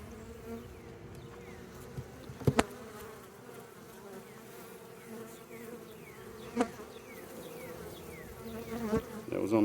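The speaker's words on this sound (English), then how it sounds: "I was expecting these bees to be pretty aggressive" Honeybees buzz steadily throughout a hive removal, a dense continuous insect drone with a few sharp handling knocks and clicks over it.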